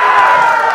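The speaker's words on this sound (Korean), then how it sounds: "이쪽에 박수 함성" A performing crowd at a comedic pumba street show erupts in a brief, loud burst of cheering and shouting, a dense wall of voices with a sustained roar rather than distinct claps.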